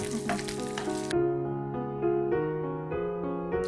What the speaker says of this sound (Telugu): సో ఇక్కడ బెండకాయ ముక్కలు మనం యాడ్ చేసుకున్నాం కాబట్టి కాసేపు ఫ్రై చేసుకోవాలా